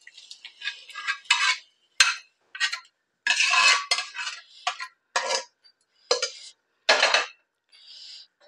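A metal spoon stirs cooked dal into a tadka in a cooking pot, a series of sharp scraping clinks and knocks against the metal in irregular bursts, close and fairly loud with quiet gaps between.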